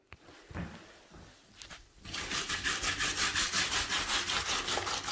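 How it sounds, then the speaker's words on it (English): A bristle brush scrubs a plastic shower floor mat, starting with a few scattered scrapes and then settling into fast, rhythmic back-and-forth scrubbing strokes that are close and fairly loud. "I start scrubbing the plastic mat."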